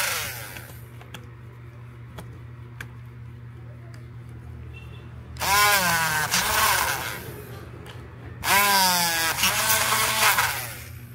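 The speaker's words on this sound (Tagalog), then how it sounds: "i-drill natin doon sa likod" A power drill boring a hole through the back of a laptop, two loud whining bursts of a few seconds each, separated by a quieter stretch with a steady low hum.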